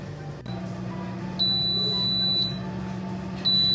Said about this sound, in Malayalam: ഇപ്പോൾ പ്രീ ഹീറ്റ് ചെയ്ത് കഴിഞ്ഞു. അതിൻ്റെ സൗണ്ട് ബീപ് സൗണ്ട് ആണ് ഇത്.